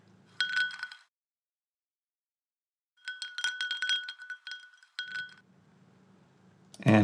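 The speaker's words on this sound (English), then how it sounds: "So we have the woman's glass here." Foley glass clinks from a prop glass come in two bursts of bright ringing taps, the second longer with several quick strikes, separated by silence, with a faint low hum and a louder thump at the end.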